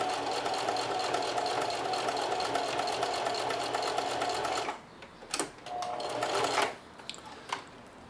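A sewing machine runs steadily, zigzag stitching back and forth across apron straps, its fast mechanical whir close and continuous for about five seconds before stopping, followed by a few short bursts of stitching.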